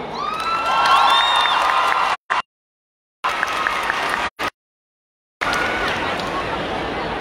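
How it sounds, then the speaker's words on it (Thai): Crowd applause and cheering for a student band at an outdoor protest rally in Khon Kaen, loud clapping with shouts and whoops, cut by two stretches of silence before resuming. "ขอเสียงปรบมือให้กับ"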